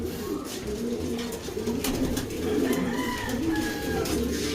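Racing pigeons coo in soft, repeated low murmurs, close by and overlapping, against a faint background hum with a few sharp clicks and scattered chirps.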